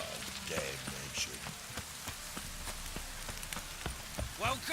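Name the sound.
rain falling in the video game The Witcher 3: Wild Hunt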